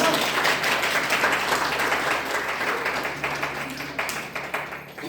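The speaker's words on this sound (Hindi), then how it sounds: "ऐसे गुरु के लिए ताली होनी चाहिए।" Steady applause from an audience at a DXN program in Banke, Nepal, dense clapping at an even level for several seconds with no pauses.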